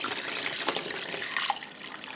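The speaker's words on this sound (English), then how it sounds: "Pour your brine into your pot with that." Seasoned brine pours into a cooking pot for a pork brine, a continuous splashing, gurgling stream of liquid heard close and alone, with no talking.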